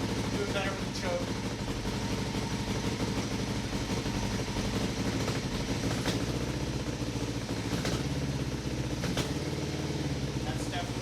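A Kawasaki EX500 motorcycle that sat unused for four years idles on choke, a steady continuous low engine drone running throughout at moderate level, with a faint fan-like hum mixed in.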